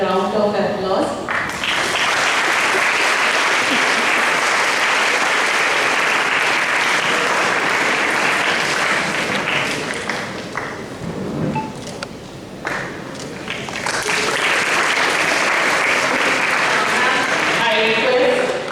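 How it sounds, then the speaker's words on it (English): Applause from the audience at a school youth parliament event during a felicitation: loud, sustained clapping from a large crowd that dips briefly midway, then swells again, with voices mixed in. "a round of applause"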